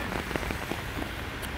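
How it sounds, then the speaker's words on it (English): Heavy rain pouring outdoors, a steady close patter of drops hitting surfaces with scattered louder splats and no other sound. "even though it's raining and it is pouring out here, it is raining"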